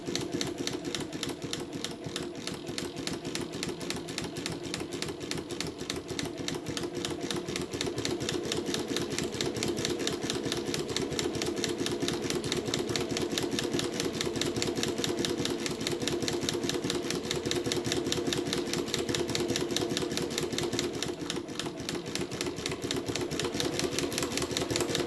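A Mauzer Mannan International chain stitch machine runs steadily, stitching a cupcake patch on felt with a fast, continuous mechanical chatter that stays close and even throughout, with no talking.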